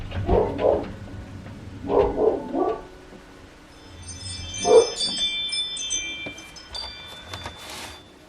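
A dog barks in several short bursts near the door at home, loud and close, followed by higher whiny yips and a faint jingling like a bell or tags.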